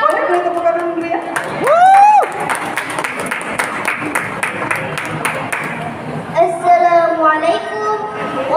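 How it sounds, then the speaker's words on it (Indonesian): Audience clapping and cheering at a children's singing festival in Karawang, a busy patter of hands with a few whoops, while talk and musical tones sit over and around it and the applause swells and then eases. "Boleh beri tepuk tangan beri ya."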